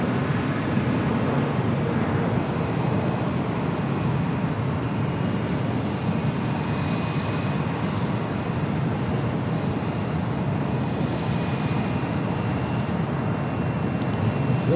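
A Delta Airbus A350 jet airliner at LAX gives a continuous, moderately loud engine rumble and rush, with a thin steady whine riding above it and no voices.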